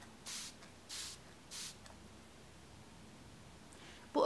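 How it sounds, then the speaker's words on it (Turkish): MAC Fix Plus face mist sprayed from a distance onto the face in three short, soft hissing bursts evenly spaced, followed by quiet and a brief louder rustle at the end. "MAC Fix Plus'ını yüzüme şöyle uzaktan tutup sıkıyorum"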